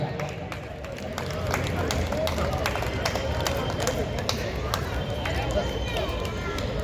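Applause from the audience at a Hasya Kavi Sammelan comedy poetry gathering at Oxy Homez, a dense steady clatter of many hands that builds after the first second and holds, with crowd murmur underneath.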